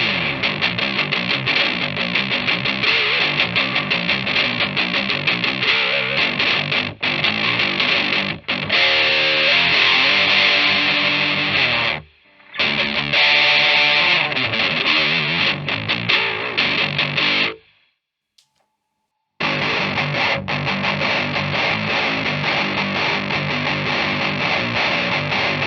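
A distorted electric guitar runs through an Ammoon PockRock processor on its distortion setting, playing loud, sustained riffs and chords with two brief stops before the playing resumes.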